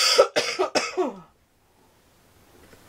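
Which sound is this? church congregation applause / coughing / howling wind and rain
coughing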